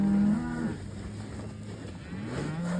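A cow lets out a long, low moo nearby, followed moments later by a second moo rising at the end, with outdoor ambience between.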